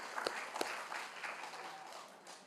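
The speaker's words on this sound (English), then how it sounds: "let's give them a clap." Audience applause for a finalist at a local government awards ceremony: a steady, fairly faint wash of clapping from a crowd, with a couple of sharper individual claps near the start.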